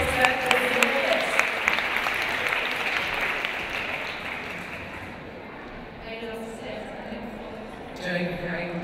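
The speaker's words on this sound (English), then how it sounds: "Big round of applause" A studio audience claps for two guests, a fitness app founder and a beauty wellness expert, with loud applause at first that fades to a softer patter, while people speak over it.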